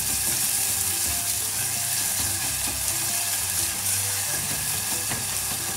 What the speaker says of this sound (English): So the onions are sweating off.